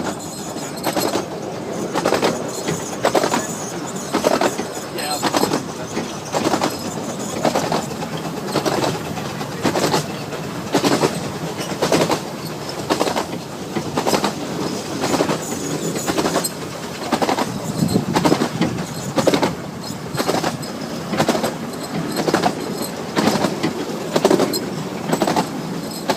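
Narrow-gauge steam locomotive Katie hauls a train along the Kirklees Light Railway in Yorkshire, wheels beating a steady, loud clickety-clack rhythm over rail joints for the whole run, with a continuous rumbling roll underneath.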